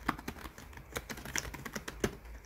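Keys pressed on a computer keyboard in a Korean word processor, Hangul 2020, a handful of crisp, close taps spread unevenly, with one sharper stroke near the end, likely the Enter key.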